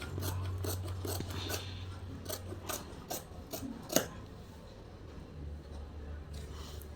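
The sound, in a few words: scissors cutting blouse fabric belt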